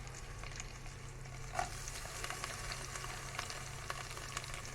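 Steady, soft sizzling of onions frying in hot oil, with faint crackles and pops and no talking.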